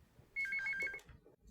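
An old landline telephone rings in a home with a short electronic trill of rapid repeated pulses, fairly loud and close, with no talk over it.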